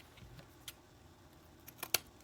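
Scissors snip through burlap canvas in a few faint, sparse clicks and crisp cuts close by, with a quick cluster near the end and no talk.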